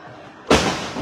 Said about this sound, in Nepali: यो गोली चलेको छ यो हवाई फायर